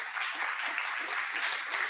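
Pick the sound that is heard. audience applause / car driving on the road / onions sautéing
audience applause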